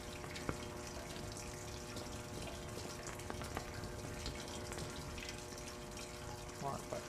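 Water running through a pipe in the horror video game SCP-022, a constant low rushing hum with faint drips, steady and fairly quiet throughout.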